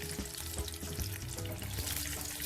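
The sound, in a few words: deep-frying lion's head pork meatballs until golden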